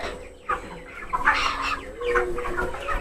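Broiler chickens cluck in a close, busy flock, with overlapping short clucks and squawks throughout over a faint steady background hum.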